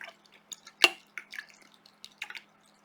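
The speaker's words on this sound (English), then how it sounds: "And then just rinse your brush" A watercolor brush swished and tapped in a water cup, a quiet sequence of small drips, splashes and clinks close by with no talk.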